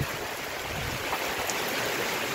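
Heavy rain pours steadily on a rainy morning in the countryside, a dense, even broadband hiss with no break, close and fairly loud.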